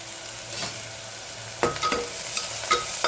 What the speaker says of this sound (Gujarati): 1 ચમચી રાઈ એડ કર્યું, જીરું અને સાથે સાથે દૂધી કટ કરી છે એને એડ કરી દેવાનું